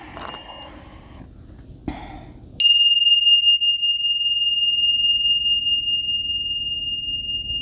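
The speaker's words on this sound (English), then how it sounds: "let's ring the bells" Several bright bell strikes ring out, first softer chimes, then one loud clear ding whose pure tone sustains and slowly fades for seconds, heard alone at the start of a spiritual tarot reading.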